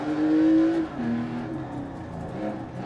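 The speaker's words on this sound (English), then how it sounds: "Nothing like the sound of an air-cooled 911 from the inside." An air-cooled Porsche 911 engine drones steadily from inside the cabin, with a low rumbling hum that shifts pitch slightly as it revs and settles.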